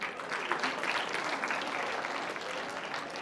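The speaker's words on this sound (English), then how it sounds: "Give a big round of applause to him." An audience at a technology symposium in India claps steadily in a dense, continuous round of applause that holds at an even level throughout.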